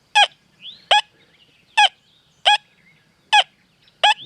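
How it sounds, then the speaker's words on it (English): Deus 2 metal detector giving repeated short, sharp, honk-like tones at a regular pace, about six bursts in four seconds, close and clear against quiet background hiss. "You can hear a little of that iron tone on that signal"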